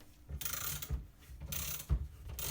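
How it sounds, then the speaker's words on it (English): A bearing puller is drawn down by a single hand ratchet in short repeated strokes, each a soft mechanical clicking burst followed by a pause, heard close and fairly quiet. "It's just going down nice and easy, look, just with the single ratchet"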